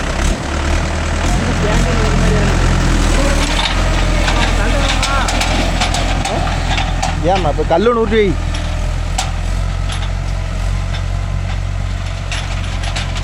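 A Mahindra 575 DI tractor engine runs steadily in a field with a low, continuous idling rumble, while people talk nearby over it.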